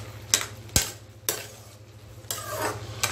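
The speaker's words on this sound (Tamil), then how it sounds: "இதுமாரி நடுவில் கிண்டி ஒட்டிக்கிட்டிங்கன்னா நல்லா ஒன்றா வேகும்" A spoon stirring beans poriyal with moong dal in a pan, several distinct scraping strokes against the pan over a low steady hum, close and fairly quiet.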